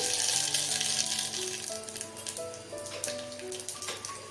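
Cumin seeds sizzle and crackle in hot oil over a low flame, a steady frying hiss with scattered small pops, close and fairly quiet, while preparing a tempering for red cowpea usal.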